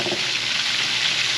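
Ribs fry in a pan, golden brown and stirred briefly, giving a loud, close, steady sizzle with a short scrape of the stir at the start.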